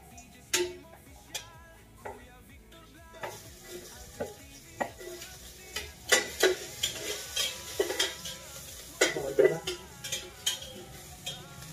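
Garlic sautés in a hot pan, with a soft sizzle under repeated sharp clinks and scrapes of a utensil stirring against the metal. The strokes come more often and louder toward the end.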